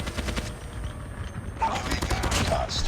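The GKS fires in rapid bursts in the COD Mobile video game, giving a sharp, dense rattle of gunfire that runs nearly throughout with faint game sounds mixed in.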